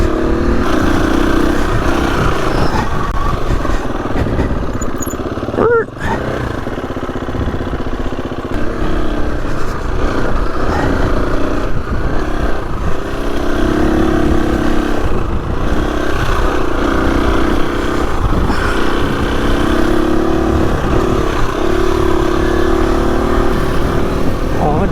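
Husqvarna FE 250 dirt bike ridden off-road on a muddy mountain trail, its engine droning loud and steady throughout with small surges in revs and wind buffeting.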